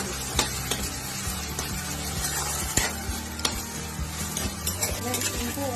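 Diced potatoes with a pinch of salt fry uncovered in a pan for sabudana khichdi, sizzling steadily while a utensil stirs and scrapes with repeated clinks against the pan.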